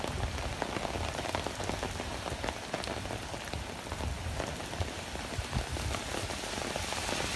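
Heavy rain blows through a New York City street during a severe thunderstorm, a dense, steady wash of drops pattering on surfaces with no voices.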